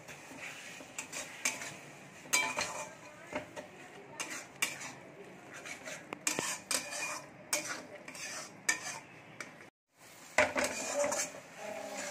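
A spoon scrapes and stirs a paste of ground turmeric, chili, cumin and coriander powder frying in a pan for mutton curry, with a rapid run of strokes over a low sizzle and one short pause.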